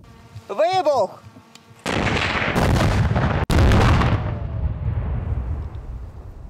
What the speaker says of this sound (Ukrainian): Вибух!